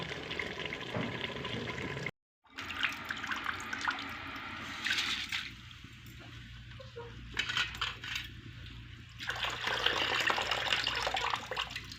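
Potatoes boil in water in a pot for a biryani, with steady bubbling and a low simmering hiss, plus a few clinks of a utensil against the pot, close and without talk.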